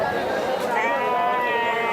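Sheep bleat at a busy goat and sheep market, a steady wavering cry over a bustling crowd with people talking nearby.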